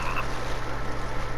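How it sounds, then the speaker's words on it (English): A frog croaks repeatedly in the survival video game The Forest, a low rhythmic rattling call heard alone at moderate volume over a steady low ambient hum. "I hear a frog."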